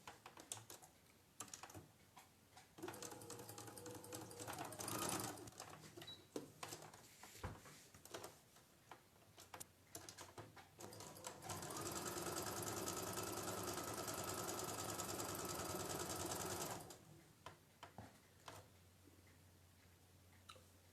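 Sewing machine stitching three pinned fabric pieces for a quilt sampler, bursts of rapid mechanical chatter with a long continuous run in the middle, close and clear with short gaps between runs.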